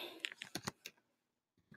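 Keyboard typing on a computer: a quick run of soft clicking keystrokes, close and fairly quiet, then a pause and a few more taps at the end.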